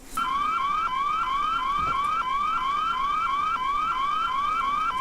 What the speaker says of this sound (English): The annoying alarm sound is of course very annoying.